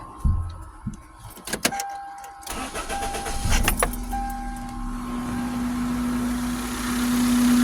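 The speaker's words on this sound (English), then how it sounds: "I'm gonna go ahead and start the car." A car is started during fuel tank pressure troubleshooting: clicks and key rattles come first, then the starter cranks and the engine catches, settling into a steady, close, rising idle hum.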